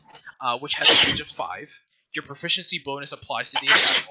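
A sneeze bursts out during a tabletop role-playing game session, heard loudly near the start and again at the end, mixed in with a person talking about game rules.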